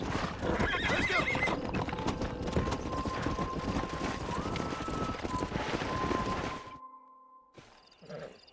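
A horse in Red Dead Redemption gallops with rapid hoofbeats, then lets out a loud neigh, followed by a short pause and a brief final burst of sound.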